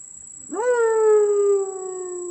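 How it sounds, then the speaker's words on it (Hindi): A single drawn-out fox cry rises sharply, then holds a wavering, tonal wail that slowly fades, heard alone over a steady high whine. "दूर कहीं किसी जगह से एक लोमड़ी ने चिल्लाया।"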